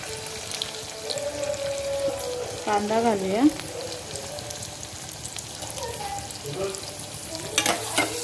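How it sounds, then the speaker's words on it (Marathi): Onions frying in a pan for chicken biryani, a close, continuous sizzle with stirring scrapes and the clatter of a spoon against the pan throughout. "कांदा पण असा चांगला परतून घ्यायचा, लाल भाजून घ्यायचा।"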